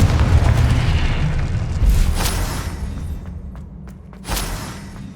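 A Confringo blasting spell goes off in the Hogwarts Legacy video game, a deep booming explosion with a rumbling low tail, followed by a couple of sharper bright bursts and crackles near the end.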